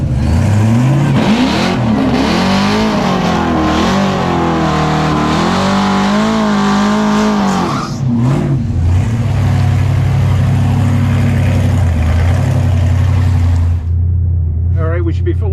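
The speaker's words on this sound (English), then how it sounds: "We're drag strip mode, peak performance ready" A Tesla Model S Plaid in drag strip mode launches hard on a quarter-mile track, a loud rising electric whine and rush with tire roar swelling for several seconds before easing off, while people talk over it.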